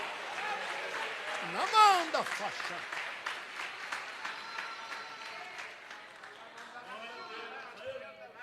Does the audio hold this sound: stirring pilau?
no